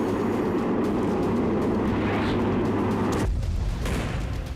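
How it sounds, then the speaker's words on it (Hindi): Kamikaze drone in the Russia–Ukraine war, heard as a loud, steady, engine-like buzzing roar that holds for several seconds and then cuts off abruptly near the end, with no voices. "कामिकाज़े ड्रोन से प्रहार"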